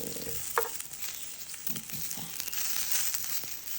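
Thai herbal sausage (sai ua) frying in a pan without added oil, cooking in its own fat: a steady crackling sizzle with occasional scraping and stirring clicks from a utensil, fairly close.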